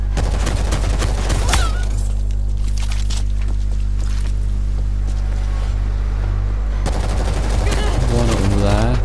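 Dense gunfire in the World War Z zombie shooter on PS4, with rapid bursts and a steady heavy low drone filling the whole stretch at close, loud range.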